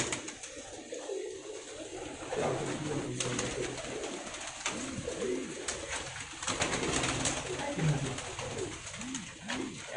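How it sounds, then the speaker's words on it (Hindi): Pakistani pigeons coo repeatedly nearby, soft rolling calls recurring through the scene over light background noise. "परेल कबूतर हैं बहुत ज़्यादा, पर ही पर आपको नज़र आएंगे इनके ऊपर।"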